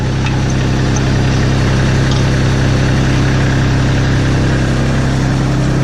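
A Kubota tractor engine idles steadily and loudly up close, a constant low diesel drone with even vibration while the loader works, no voices over it.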